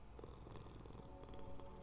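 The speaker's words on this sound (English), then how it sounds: "We're gonna pet the cat, you know." A cat being petted in the video game Hades 2 purrs in a soft, continuous rumbling loop, quiet and close, with no talk over it.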